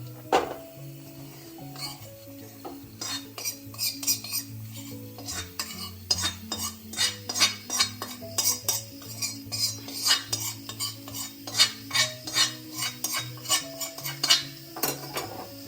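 A metal spoon scrapes and taps against a pan in quick repeated strokes while transferring roasted spice powder for sambar into a vessel, with soft clinks over faint background music.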